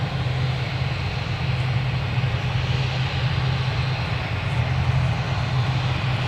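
A plane taxis at Newcastle Airport, its engine giving a steady, droning hum with a strong low tone and broad hiss, constant in level and heard from some distance without talk.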